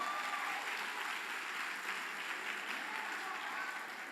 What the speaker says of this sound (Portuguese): Pode aplaudir aí, as mulheres